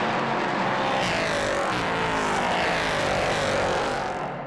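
Race cars at the Monza circuit roar past heading into the Parabolica, a dense, continuous engine wail with overlapping cars, loud and close, swelling and fading slightly as they pass.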